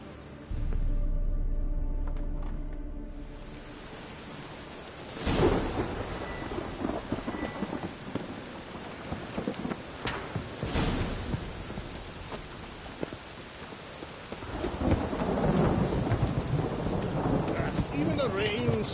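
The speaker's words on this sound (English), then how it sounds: "the rain smells like piss in this." Rain and thunder in The Witcher 3: steady rainfall hisses throughout, with several loud rolling thunderclaps breaking in, the last one long and rumbling, and no talk.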